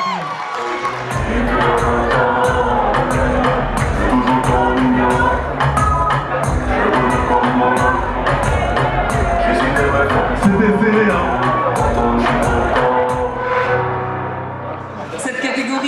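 Crowd at the Hit Lokal Awards 2017 ceremony cheering, whooping and clapping loudly and steadily, a dense roar of voices and applause that barely dips before easing slightly at the end.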